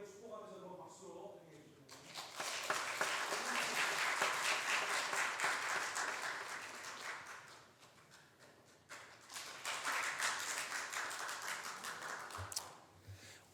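Church congregation applauding during a Sunday service to bless the mothers, two waves of clapping separated by a brief lull, with a voice speaking at the start.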